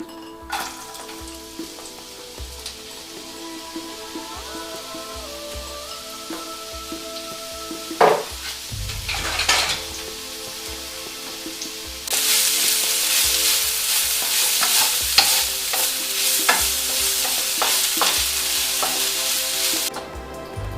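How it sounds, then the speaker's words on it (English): Olive oil sizzles and crackles steadily in a frying pan, then onions drop in and a much louder, hissing fry takes over and continues. "So my onions are done frying."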